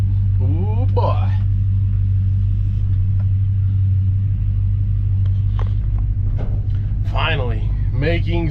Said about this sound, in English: The truck is moving under its own power again.